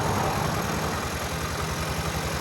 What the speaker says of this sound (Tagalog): Buhay na yung motor ni boss mga katropa.